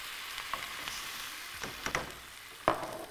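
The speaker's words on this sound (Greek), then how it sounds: "Και θα σβήσω το τηγανάκι μου με τι, με νεράκι, κρέμα γάλακτος" A frying pan of beef patties with thyme being deglazed with water and cream gives a soft, steady sizzle, with a few scraping stirs and small clinks of a utensil against the pan, no voices.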